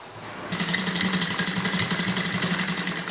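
A sewing machine stitches a girl's pleated frock, starting suddenly and running at a fast, even chattering rhythm up close, loud and steady for about three seconds with no talk.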